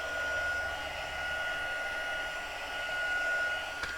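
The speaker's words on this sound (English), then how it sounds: "when you're heat embossing, try and keep your heat gun moving so you don't burn the embossing powder" Heat gun used for heat embossing powder, a steady close airy blowing roar with a faint whine, running continuously and fairly loud.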